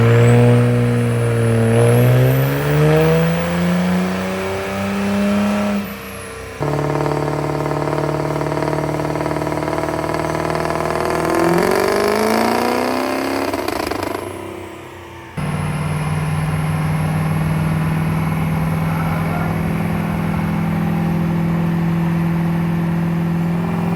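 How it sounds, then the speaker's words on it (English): A race car engine revs hard on a dyno in loud, rising and falling sweeps, with two brief dips where the throttle lifts before it climbs again and holds a sustained high roar. "This morning I got a couple dyno runs."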